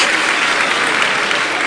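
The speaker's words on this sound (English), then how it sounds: "A round of applause for him." Steady, loud applause from a conference audience at the Digital Nigeria International Conference, dense clapping filling the room without pause.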